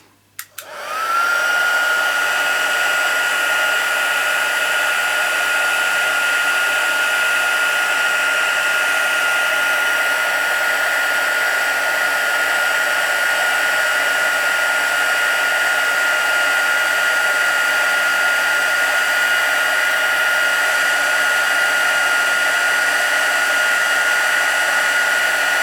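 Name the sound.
heat gun used for heat embossing a card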